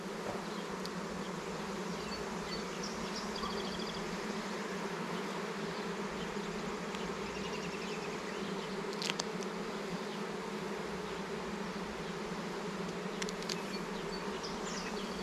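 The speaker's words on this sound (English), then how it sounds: "There's some busy little bees." Dense, continuous buzzing of many honeybees at close range in an open nucleus hive, a steady droning hum with occasional louder passes of individual bees.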